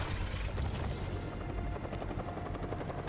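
A helicopter in Batman Arkham Knight thrums with a loud, continuous rotor chop and engine rumble, close and steady throughout.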